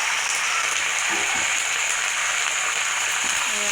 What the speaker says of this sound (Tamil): இது கூடவே நம்ம கொத்தமல்லி போட்டு கருவேப்பிலை கருவேப்பிலை போட்டு நல்லா வதக்கிறோம்